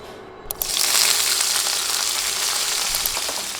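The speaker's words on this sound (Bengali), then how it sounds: "আলু উঠিয়ে এবার একই তেলে দিচ্ছি পেঁয়াজ" Sliced onions dropped into hot oil in a pan already used for frying potatoes and tilapia, bursting into a loud, steady hiss that swells after a brief quiet start and stays dense throughout.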